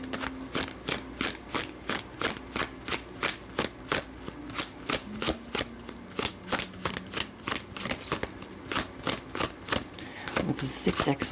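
A thick deck of playing cards is shuffled in chunks, giving a steady run of crisp riffling bursts close up, with a louder flurry near the end; a voice talks faintly underneath.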